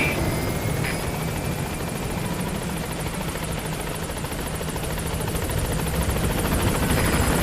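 A helicopter in the video game Metal Gear Solid 5 approaching a landing zone, a loud continuous rotor roar with a steady rhythmic chop that holds throughout, with no voices.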